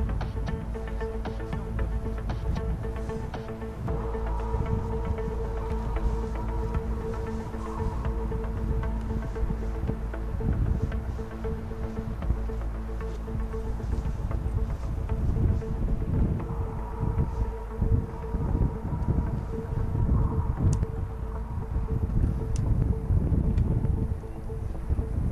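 A GX200 engine on a homebuilt paramotor runs with a silencer that barely muffles it, giving a steady, loud, continuous droning rumble mixed with gusting wind noise throughout.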